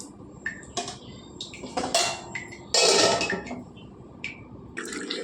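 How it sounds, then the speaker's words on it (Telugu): A metal lid clanks onto a pot of simmering bottle gourd curry on a stove, a few sharp clinks and scrapes of metal on metal close by, with faint bubbling between them and no talk. "మూత పెట్టి వండుకుందాం"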